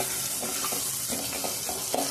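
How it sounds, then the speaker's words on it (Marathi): Peanut chutney with turmeric frying in a pan, a steady close sizzle with scraping stirs throughout, no talking. "शेंगदाण्याची चटणी आता याच्यामध्ये आपण चांगली फ्राय करतो"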